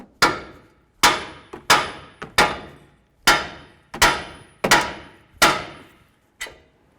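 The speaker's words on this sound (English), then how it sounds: "we're going to hit right on this knuckle and try to separate the tie rod from the knuckle." Heavy hammer blows strike a Ford Edge steering knuckle to separate the tie rod, about nine sharp metallic impacts spaced irregularly, each ringing briefly before decaying, loud and close with no talk.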